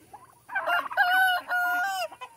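A turkey on a small farm flock gives a loud, bright call that rises and holds in two drawn-out bursts, close by and with no talk over it.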